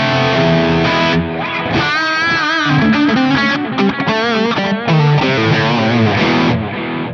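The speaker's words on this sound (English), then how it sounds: "now here's my echo" Distorted electric guitar run through a JCM800 amp preset on a Fractal FM9 with an echo effect, a loud, sustained run of chords and notes with repeating delay tails throughout, no talking.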